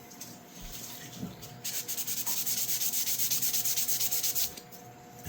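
Hand sanding on a restored hand plane to smooth out scratches: quiet at first, then a run of rhythmic back-and-forth rasping strokes, close and fairly soft, stopping near the end.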